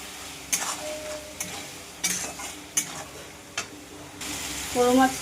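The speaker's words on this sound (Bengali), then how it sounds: "এবার মৌরলা মাছগুলো দিয়ে দেবো। একটু নেড়ে চেড়ে" Small mourola fish stirred in a pan of simmering spicy gravy, soft bubbling and sizzle punctuated by several distinct spoon knocks and scrapes against the pan, close by.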